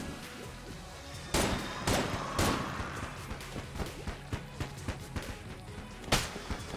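Rapid video-game gunfire from Enter the Gungeon, a string of sharp cracks and thumps with several louder bursts standing out against a busy, constant backdrop of in-game action.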